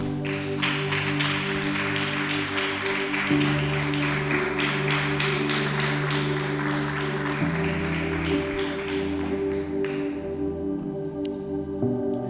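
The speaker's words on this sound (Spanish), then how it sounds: "Dale un aplauso al Señor" Church congregation applauding during a sermon, a sustained crowd of clapping hands over steady sustained keyboard chords that shift pitch, moderately quiet and thinning toward the end.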